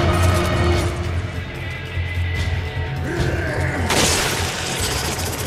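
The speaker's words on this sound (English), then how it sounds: "Ah, reloading, seriously?" A weapon being reloaded in Resident Evil 5: brief metallic clicks and clacks of the reload mechanism over a constant, busy wash of game ambience and noise.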